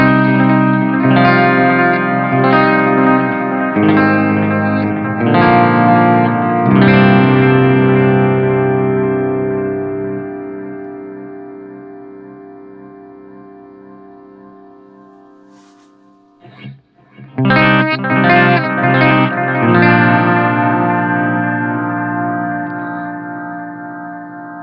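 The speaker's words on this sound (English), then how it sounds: "the delay almost sits on the edge of totally feeding back and going crazy." A Strymon Timeline digital delay with the repeats turned up oscillates on the edge of runaway feedback, guitar notes smearing into a dense, swelling wash that fades out before fresh attacks kick it up again, loud and alone.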